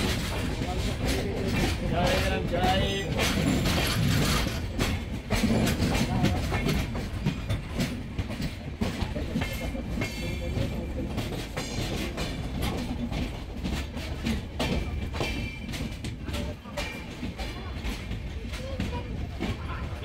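Konkan railway passenger train rolling toward Thivim, a steady loud rumble with rhythmic wheel clatter throughout, voices talking over it.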